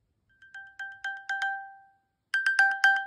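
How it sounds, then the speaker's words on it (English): An iPhone emits its Find My ping, a bright chiming tone repeated in a rhythmic run of about five pulses, then a brief pause and another faster burst, loud and clear with nothing else heard. "Looking for your iPhone. It's nearby. Pinging your iPhone now."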